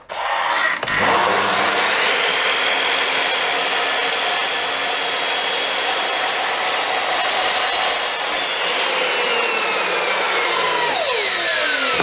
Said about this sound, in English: Now I have to cut 4 more pieces, but these are for the angles.